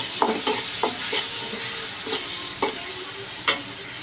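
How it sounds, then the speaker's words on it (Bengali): Fish masala sizzling in a pan as water goes in, a steady hiss broken by several sharp scraping stirs of a spoon at uneven intervals, close and fairly loud, with no talking. "এখানে এই যে মাছের মশলাটা কষানো হয়ে গেছে, এর মধ্যে জল দিয়ে দিব"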